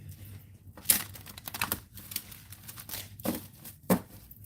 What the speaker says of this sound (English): I'm going to do it this way because it actually shuffles pretty nice.